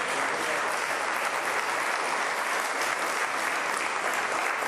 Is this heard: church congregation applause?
yes